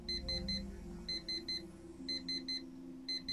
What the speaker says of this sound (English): Why don't you break that alarm clock?